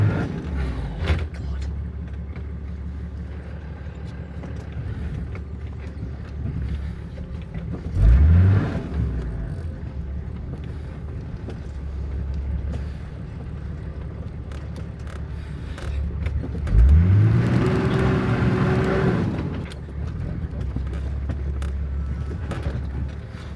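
An expedition vehicle's engine strains up a steep mountain trail with a loud, constant close-up drone. It revs up in two rising surges, one partway through and a longer one later.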